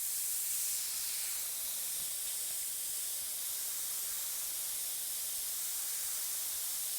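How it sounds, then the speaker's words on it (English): Iwata HPCS Eclipse airbrush spraying reduced paint at about 30 psi onto a T-shirt, a continuous close, even hiss with no breaks. "I'm using my Iwata HPCS Eclipse airbrush."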